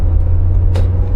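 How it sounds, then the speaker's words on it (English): Road traffic with cars passing: a steady, loud low rumble that swells briefly with a short hiss as one vehicle goes by. "So traffic again."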